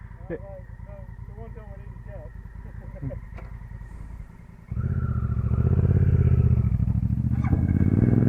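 A Honda Africa Twin engine idles in a steady low rumble, then swells into a louder, fuller drone as the bike pulls away on a country road, with wind-buffeted engine noise dominating throughout.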